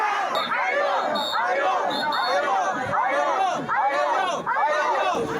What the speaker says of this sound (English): This big crowd of people you see behind me, this is in the center of Tel Aviv city.